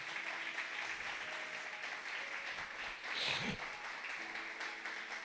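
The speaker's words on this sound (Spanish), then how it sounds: "Dale un aplauso al Señor" A church congregation applauds during a sermon-style Bible study, a soft, diffuse wash of clapping heard from a distance with a brief swell midway.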